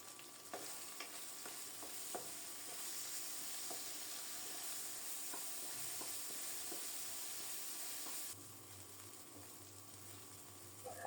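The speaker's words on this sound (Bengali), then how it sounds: "নেড়ে চেড়ে শুটকিগুলোকে একেবারে লাল লাল করে ভেজে নেব।" Crushed dried fish frying in hot oil while being stirred, with a steady close sizzle and scattered clicks of a utensil against the pan throughout, and a slight change in tone near the end.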